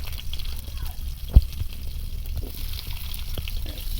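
Washed mango pieces go into a pan with dried chillies for a Bengali summer lunch, giving a low, steady frying hiss with one soft thump partway through, close but fairly quiet.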